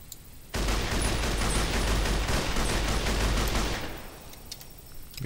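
A DP-28 machine gun mod in Fallout New Vegas fires one sustained automatic burst of rapid, loud, close shots for about three seconds. The shots cut off into a fading echo and tail, with no voices.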